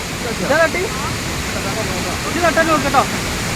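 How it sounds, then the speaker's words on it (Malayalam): Atla Waterfalls in Kerala gives a steady, loud rushing roar of falling water close by, with brief voices heard over it. "നമ്മൾ വെള്ളച്ചാട്ടത്തിന്റെ ഏകദേശം അടുത്തെത്തി ആ വെള്ളത്തിന്റെ സൗണ്ടും"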